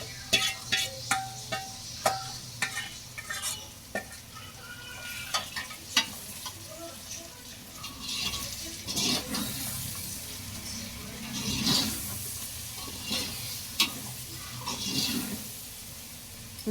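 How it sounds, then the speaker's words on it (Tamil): Marinated chicken stirred in hot oil in a pan for village-style dum biryani, a steady sizzle under repeated scraping stirs, with occasional louder clatters and swells of frying noise. "ஊற வச்சுருந்த சிக்கனை தான் இதில் சேர்த்து நல்லா கிளறி விட போகிறோம்,"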